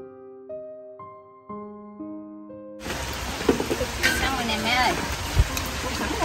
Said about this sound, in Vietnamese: Mưa tới rồi.